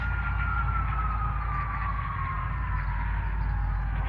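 A police car siren with a slowly falling tone drones over heavy low engine rumble, the pitch dropping as the vehicle moves past; no voices.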